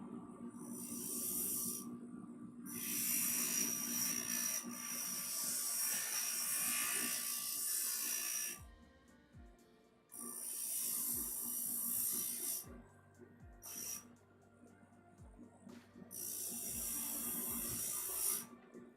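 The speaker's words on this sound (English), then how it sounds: "I need to clean my grinder out after I'm done today. I've been grinding for so long" Stained glass grinder working on glass, a faint gritty rasping hiss in repeated stretches separated by short pauses, with a low motor hum underneath.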